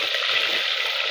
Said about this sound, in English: I need to deep fry it.